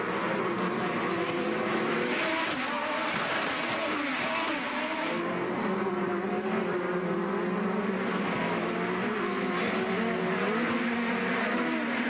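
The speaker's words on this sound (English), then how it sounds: "the RPMs that these turbo engines are creating as they streak down towards turn number 4" Turbocharged IndyCar race cars at the 2012 Honda Grand Prix of St. Petersburg scream down toward a fast corner, engines droning loudly and continuously at high revs, with layered engine tones as several cars pass.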